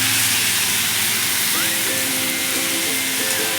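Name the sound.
onion and tomato sautéing in a pan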